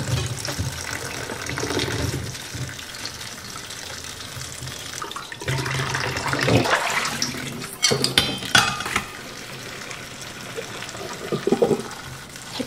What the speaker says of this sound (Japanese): このいちごちゃんたちを洗っていきます。